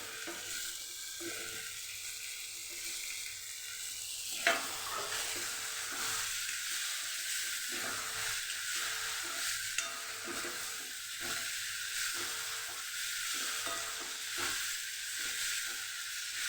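Green onions fry in a pan for a Kathiyawadi dish, giving a steady soft sizzle with intermittent scraping stirs throughout, fairly quiet and with no voices.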